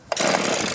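A two-stroke string trimmer engine fires up with no choke and runs steadily at a high, buzzy rev, loud and close after a brief quiet start.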